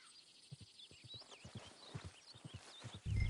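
Steady clip-clop of horse hooves walking at an even rhythm in Red Dead Redemption 2, with chirping birds in the background and a louder thump at the end.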